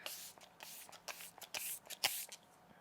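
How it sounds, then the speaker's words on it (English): Setting spray (e.l.f. Power Grip Dewy) misted in a handful of quick bursts, short bright hissing puffs at close range with soft handling noises between. "Let's finish off with some of this e.l.f."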